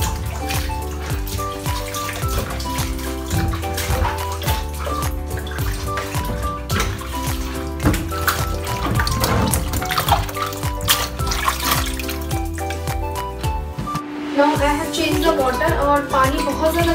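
Tap water runs steadily while groceries are washed at a sink, a continuous splashing flow with someone speaking over it.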